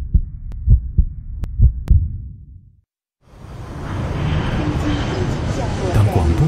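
Heartbeat sound effect thumping in a slow, steady double rhythm for about three seconds, then cut off by brief silence before a loud, roaring wash of noise takes over.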